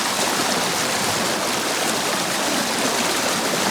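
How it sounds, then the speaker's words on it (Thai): A strong waterfall pours in a steady, loud, unbroken rush of broadband water noise while a U-Force UF-116 watch is held under it for a water-resistance test, with no voices over the roar. "จะมาทดสอบนะครับ กับน้ำตกแรงๆแบบนี้นะครับ น้ำตกแรงๆแบบนี้เลยนะครับ"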